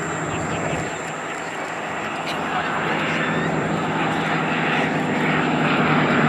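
A Westland Lysander, a historic propeller aircraft, flies a display at the Duxford Battle of Britain airshow, its engine giving a steady, loud drone that swells slightly over several seconds, with crowd noise mixed in.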